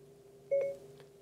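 A short electronic activation tone from Siri on Apple CarPlay in a 2017 Cadillac CTS, a single clean two-part beep that rises and falls in a quiet car cabin.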